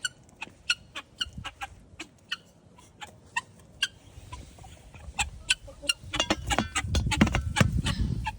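Chickens heading in for breakfast cluck in sharp, repeated bursts close by. The calls grow busier and denser toward the end, mixed with shuffling and a low rustling background.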